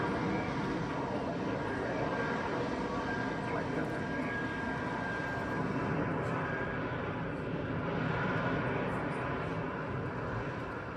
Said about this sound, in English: The new F-35B avoids the complexity of a catapult and arrestor